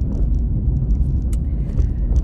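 A car driving on a road gives a steady low interior rumble of engine and tyres, loud and continuous, with faint clicks and rattles above it and no talk.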